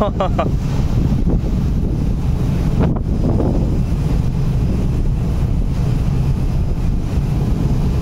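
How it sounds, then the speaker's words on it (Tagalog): Steady wind roars across an open ship deck during fire pump testing, a constant low rumble with surf-like wash and brief gusty buffeting, faint voices in the background. "Balik ang hangin eh"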